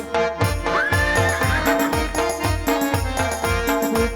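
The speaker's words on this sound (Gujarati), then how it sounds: "ઘડીલા ખેલવે રામા પીર" A horse neighs once in a long, rising whinny inside a devotional song with a steady rhythmic beat and instruments playing throughout.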